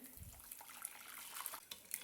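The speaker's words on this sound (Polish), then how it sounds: "Dwie galaretki zalewam szklanką gorącej wody." Hot water pours steadily into a glass bowl of jelly powder, a splashy, running-water texture, fairly close but low in level, with no voices.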